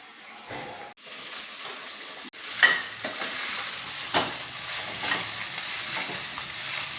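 Rice with cauliflower gets stirred and mixed in a hot pan, a hissing sizzle punctuated by irregular scrapes and knocks of the spoon, close and moderately loud, with no speech.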